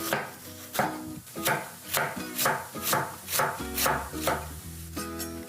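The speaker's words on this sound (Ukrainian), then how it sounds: "Я люблю шинкувати капусту такими довгими-довгими соломками." A knife cuts cabbage into long thin strips on a board in a steady run of about a dozen crisp, evenly spaced chopping strokes, close and alone with no talking.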